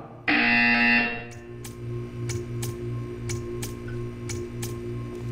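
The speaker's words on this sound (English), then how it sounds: "You will hear a buzzer." A loud electronic buzzer in the video game Portal 2 sounds for about a second, then a series of soft, evenly spaced ticks follows over a low steady hum.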